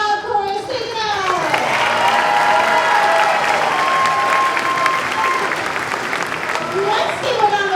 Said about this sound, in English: And another round of applause for the crowd chorus.